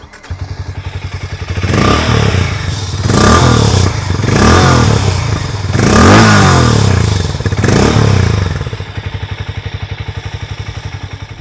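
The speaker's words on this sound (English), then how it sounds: "let's fire that engine and see how the exhaust sounds like" A Hero Mavrick 440 motorcycle engine starts and idles with a rapid low throb, then revs up loudly four times in succession before dropping back to a steady idle.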